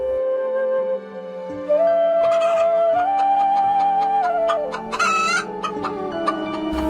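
A cartoon chicken clucks loudly and crows over a sustained musical background, its rapid repeated clucks growing busier toward the end.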